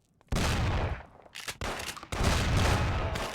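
Rapid bursts of gunfire in the Mafia video game: an opening volley, a brief lull, then a second sustained barrage, loud and close with no talk over it.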